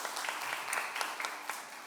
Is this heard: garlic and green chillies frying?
no